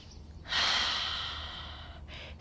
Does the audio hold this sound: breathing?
yes